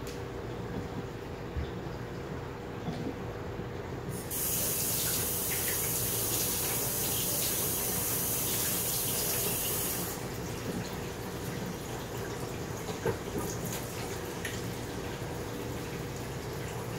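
Hands washed under a running kitchen tap, a steady hiss of water lasting about six seconds in the middle, quiet room sound before and after.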